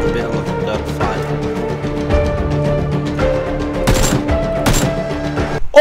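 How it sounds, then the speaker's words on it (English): Rapid bursts of gunfire from a video game gunfight, loud and close, with repeated volleys and a few sharper cracks over a steady background of game sounds. "I'm in the middle of a gunfight."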